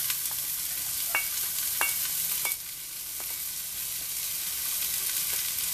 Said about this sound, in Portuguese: aqui agora nós vamos fritar o nosso alho com a cebola